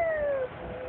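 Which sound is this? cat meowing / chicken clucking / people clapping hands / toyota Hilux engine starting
cat meowing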